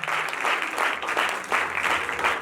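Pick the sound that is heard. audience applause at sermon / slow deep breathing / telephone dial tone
audience applause at sermon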